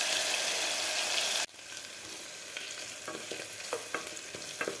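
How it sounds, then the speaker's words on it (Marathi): Green chilli and ginger-garlic paste sauté in a pan for pav bhaji, a loud burst of sizzling that cuts off abruptly, then quieter crackling with scattered stirring clicks and scrapes. "मिरची आणि अद्रक लसूण आपल्याला व्यवस्थित परतून घ्यायचे आहे."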